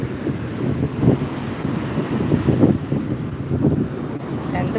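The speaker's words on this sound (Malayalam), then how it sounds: "വലിയ തിരയാണ് വരുന്നത്" Big waves roll in at Vettukad beach, a loud, low surging rumble of surf mixed with wind buffeting the microphone.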